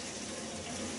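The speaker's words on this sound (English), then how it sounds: "I'll just pour them in." Raspberry and loganberry wine ingredients poured into a container during home winemaking, giving a steady, close, continuous splashing and trickling of liquid that runs the whole second without a break.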